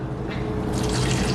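Dissolved jelly mixture poured from one container into a separate container, a steady liquid trickle and splash that fills out and grows brighter over a second or so, close by and alone.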